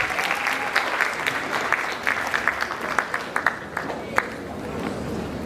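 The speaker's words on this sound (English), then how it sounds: "can we clap for her?" Pupils and staff at a school anti-bullying assembly applaud a speaker, a crowd of hands clapping with some sharp individual claps standing out, the applause gradually thinning toward the end.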